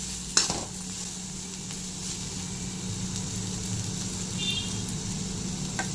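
Bitter gourd (pavakkai) slices fry in a pan over a slow flame with asafoetida, giving a steady soft sizzle, one sharp clatter of stirring near the start and a faint hum underneath.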